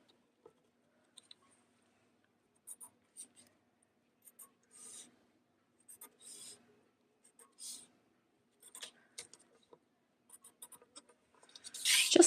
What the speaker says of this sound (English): Just a little pencil line